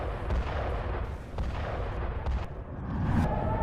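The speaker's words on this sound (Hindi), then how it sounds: "एक और भीषण एयर स्ट्राइक की गई है, जिसके बाद हिजबुल्लाह के लड़ाके अपनी जान बचाकर भागते नजर आए हैं।" Israeli airstrike explosions hit Hezbollah positions in the Bekaa, Lebanon: a string of deep booms and sharp blasts rumbles heavily at a distance, several impacts following one another over a continuous low roar.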